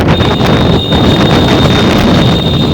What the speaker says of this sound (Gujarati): એ ખતરનાક પવન આવો છે અહીં કને